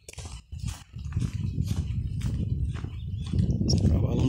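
Horse hooves clip-clopping along a rural backcountry road in the Brazilian sertão, a steady series of moderately close footfalls under continuous low rumbling, with faint voices in the background.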